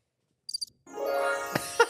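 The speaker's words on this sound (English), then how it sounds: "the crickets." A brief burst of high cricket chirps plays as a comic sound effect on a talk podcast. It is followed by a sustained tonal sound, with no talking.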